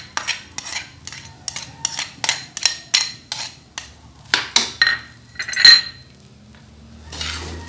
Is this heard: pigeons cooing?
no